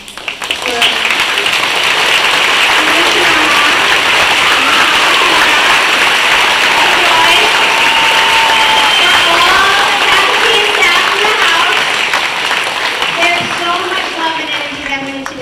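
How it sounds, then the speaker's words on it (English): Audience applause and cheering at a Hōʻike hula performance at Island School, a sustained crowd roar with voices and shouts mixed in, loud and steady throughout. "can we do one more round of applause"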